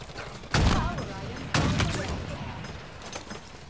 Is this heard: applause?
no